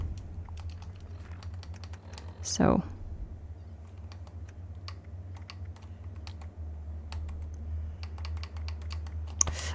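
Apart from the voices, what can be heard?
computer keyboard typing picked up by microphone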